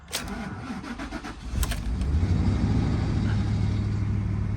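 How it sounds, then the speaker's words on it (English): A truck engine at a Copart salvage yard, left sitting on a dead battery, cranks with a few rapid stuttering turns, catches and settles into a smooth, steady idle nearby. "Running smooth, very smooth. Started right up"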